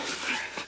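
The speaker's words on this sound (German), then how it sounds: "Warum bellt der blöde Hund denn?" Dog barking in an audio drama, a short loud yelping bark with whiny tone, close and alone.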